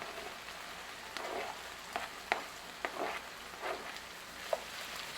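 Chopped onions sizzle in a pan of frying steak for chilli, a soft steady crackle broken by a few scattered sharp pops.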